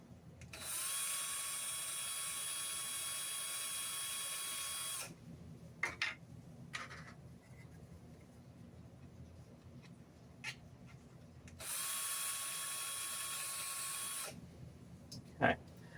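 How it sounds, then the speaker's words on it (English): Two loud, sustained bursts of a power drill boring through FDM 3D-printed plastic, each lasting a few seconds with a steady high whine, separated by a quieter stretch of handling clatter and light knocks. "I am going to drill, so sorry for the sound."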